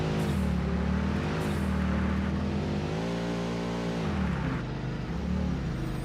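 Car engine in the video game Satisfactory, a steady mid-pitched hum that shifts pitch partway through as if changing speed, continuous and fairly close with no talk over it.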